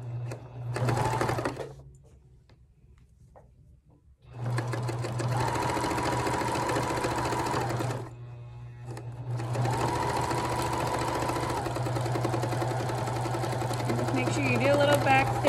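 A sewing machine stitches fabric scrap strips for a dish drying mat, running in steady, sustained bursts with a brief pause between them while a voice talks over the whirring motor.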